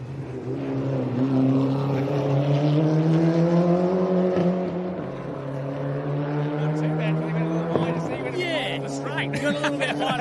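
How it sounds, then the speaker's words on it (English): A rally car on a gravel stage at the Adelaide Hills Rally carries speed through a corner, its engine note rising and falling through gear changes, with someone speaking over it. "I wanted to have a good listen to this car."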